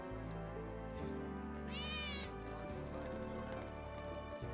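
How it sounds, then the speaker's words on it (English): A cat meows once in the Final Fantasy 7 Remake game, a short rising-and-falling cry over a steady bed of game music and background ambience. "Cat."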